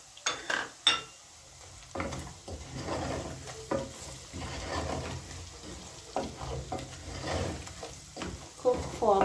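Pilau masala spices fry in a pot as a spoon stirs and scrapes, a low sizzle broken by sharp clinks and knocks, fairly quiet and close.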